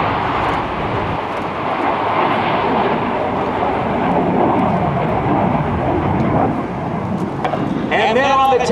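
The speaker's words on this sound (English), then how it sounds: "On the roll next is the F-22 Raptor" An F-22 Raptor fighter jet from Langley Air Force Base starts its takeoff roll at an air show open house, giving a broad, steady engine roar heard from a distance with a public-address voice talking over it.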